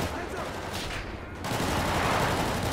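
Heavy overlapping gunfire during a GTA 5 SWAT raid on an abandoned motel, a dense fusillade that briefly thins before swelling louder and fuller, close and continuous with no gaps.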